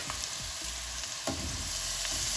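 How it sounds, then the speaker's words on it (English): Vegetables and paneer sautéing in a pan for restaurant-style navratan korma: an even, close sizzle with a few soft stirring scrapes and no voices. "let the paneer also saute for a couple of minutes"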